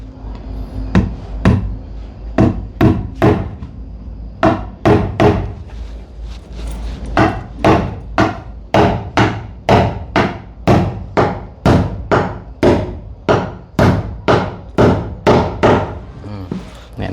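Repeated sharp hammer blows, about two per second, striking steadily and close for the whole stretch, each hit a loud dry knock with a brief ring, while faint voices murmur in the background.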